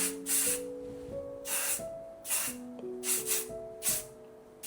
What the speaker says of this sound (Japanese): もっとねいいスプレーあるはずなんですけど、これは普通に薬局で買いました